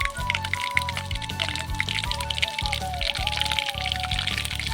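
Dried red chilli, panch phoron and slit green chillies crackling and spitting in hot oil, a dense continuous sizzle with busy pops throughout, close and fairly loud, with faint talk under it.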